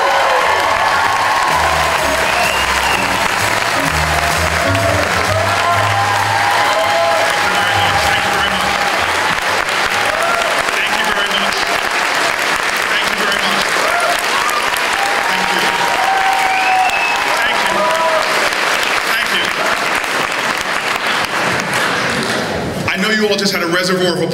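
Gala audience applauding and cheering as a senator takes the stage at a Farm Sanctuary event, sustained dense clapping with voices rising through the crowd, fading out near the end.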